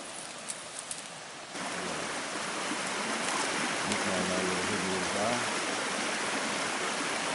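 Ritchie Creek, a creek at a historic mine site near Waratah, Tasmania, flows in a steady broadband rush that starts abruptly after a quiet opening and stays loud throughout, with faint voices briefly beneath it.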